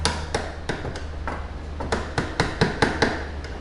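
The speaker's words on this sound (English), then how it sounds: "So you see I'm kind of hammering it and trying to get it centered." A hammer taps on a tight washer while centering it on a mobility scooter tiller during a piston replacement, about a dozen sharp metallic knocks at an uneven pace, close and clear with faint room hum beneath.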